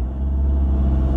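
A car engine rumbles steadily up close as the gas pedal is pressed during a driving lesson, a low continuous drone with a slight rise and no voices.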